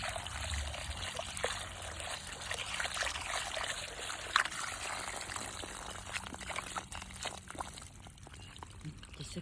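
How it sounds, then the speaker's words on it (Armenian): Kitchen tap water running steadily while washing at the sink, a continuous close splashing trickle with small clinks throughout. "այս հոսող ջրի տակ լվալ արժի ամանիչ,"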